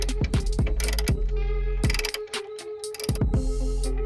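Ratchet wrench loosening the headlamp bolts on a first-generation Kia Koup, heard as close, loud bursts of rapid metallic clicking separated by short pauses.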